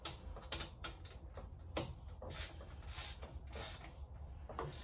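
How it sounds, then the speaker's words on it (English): Cap bolt on a bike being loosened and tightened with a tool, giving a steady run of close mechanical clicks, ratcheting and creaks with a few sharper metallic ticks, no voices. "So I gotta loosen up what I just sort of tightened down. And then tighten the one in the back up."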